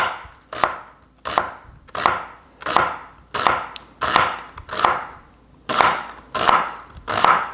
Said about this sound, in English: I already split the onion, so let's go nice and thin.